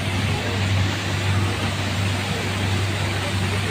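A speedboat ride on the water, filled with a loud, steady roar of engine and rushing water and a constant low droning hum that never lets up.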